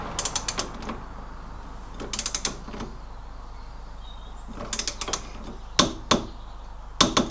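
Ratcheting torque wrench tightening the lower trunnion bolt on an MGB suspension, several quick bursts of close, sharp clicking separated by short pauses, ending in a few single heavier clicks.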